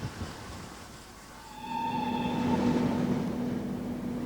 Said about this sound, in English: Complementary to the centre was this delightful miniature railway, operated by the Buxton Model Engineer Society